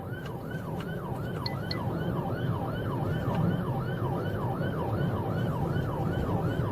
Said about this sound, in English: Sirens wailed, lights flashed